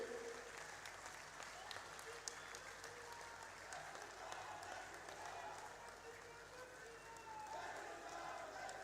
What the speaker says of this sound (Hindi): तालियों की गड़गड़ाहट के साथ माननीय मुख्यमंत्री जी का जोरदार तालियों के साथ अभिनंदन करें, स्वागत करें।